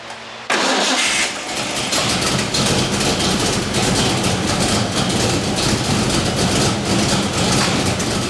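A car engine cranks and catches almost immediately, then runs at a steady, loud idle for several seconds with no talking.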